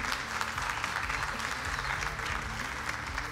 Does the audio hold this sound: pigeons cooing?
no